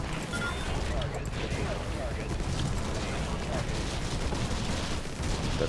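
Rapid gunfire in the video game Infested Planet rattles continuously and densely at moderate level throughout, like a sustained barrage with scattered crackling bursts.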